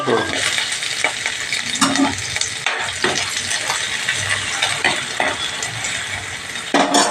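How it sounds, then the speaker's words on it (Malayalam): Mustard seeds pop and crackle in hot coconut oil in a pan, a dense, steady sizzle with scattered sharp pops running throughout, close and fairly loud with no talking. "അപ്പോൾ നമ്മുടെ കടുക് പൊട്ടിക്കൊണ്ടിരിക്കണം."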